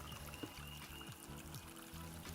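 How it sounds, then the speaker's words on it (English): Water poured into a solar-powered bird bath fountain, a faint splashing trickle with uneven pulses and small bubbling surges, close but quiet, with no talking. "Then we added water."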